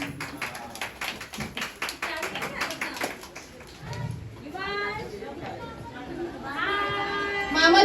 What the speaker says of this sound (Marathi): जोरदार एकदम जोरदार टाळ्या होता मामासाठी